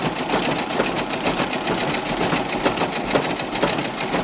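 A loud, close sewing machine runs continuously while stitching fabric tiers onto a frontier-style skirt, a rapid even mechanical chatter with no voices.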